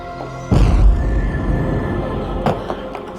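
An explosion rocks an office building in Salt Lake City, a sudden loud boom with a deep low rumble that lingers and decays over a few seconds, followed by a second sharp impact near the end.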